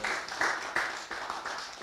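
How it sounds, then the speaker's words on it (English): A round of applause at an outdoor ideas forum on hard courts rises in a few bursts of clapping, moderately loud with no talk over it. "So we just have a round of applause for Jemiah."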